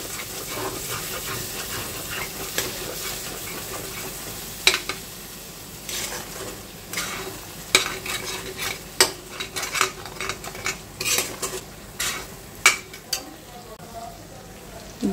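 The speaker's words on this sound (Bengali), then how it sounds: "এখন ভালো করে মশলাটাকে কষিয়ে নেব।" Spice paste cooks down in oil in a pan for a vegetarian mushroom dish, with a soft background sizzle and irregular sharp scrapes and knocks of stirring that grow busier toward the end.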